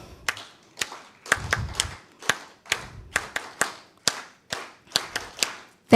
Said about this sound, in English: We will clap thrice only.